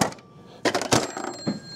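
Old Western Electric Bell System telephone bells ringing in brief bursts, a loud clattering ring after a quiet start, repeating unevenly and fairly close.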